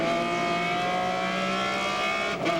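Inline-six race car engine at Sebring during a 2001 ALMS endurance race, a continuous loud droning roar with layered harmonics, steady pitch and a brief dip near the end.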